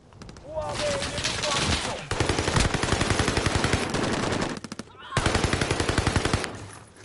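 Automatic gunfire in the shooter Warzone, loud close bursts of rapid machine-gun shots in several rattling strings separated by brief pauses, with a voice speaking in between.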